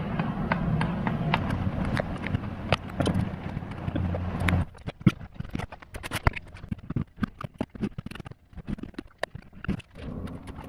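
A mallet taps an oil pump pick-up tube into a Subaru EJ25 engine, a series of sharp, irregular knocks, dense early and then spaced out, with faint background noise.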